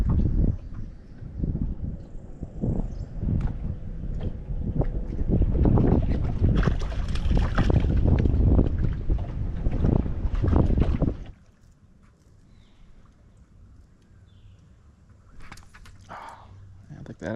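Strong wind on a lake buffets the microphone of someone fishing for crappie and bluegill from a boat. A heavy rumbling roar lasts about eleven seconds, then drops to a quieter lapping background with occasional knocks.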